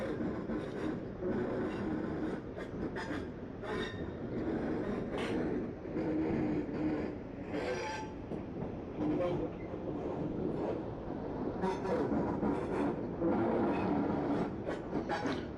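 A Class 142 train in Train Sim 2020 pulling slowly up to a platform, giving a continuous rolling rumble with soft clicks and clanks, while a voice talks quietly underneath.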